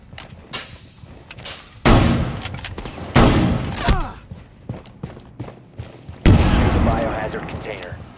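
Shotgun blasts in Rainbow Six Siege, a series of loud, close booms at irregular intervals, with lighter thuds and clatter between the heavier shots.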